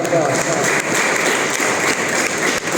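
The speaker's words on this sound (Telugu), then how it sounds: "నేను మాట్లాడినా ఇట్లాగే చప్పట్లు కొట్టారు" An audience at an annual gathering claps, a dense and continuous burst of applause filling the short stretch at close range.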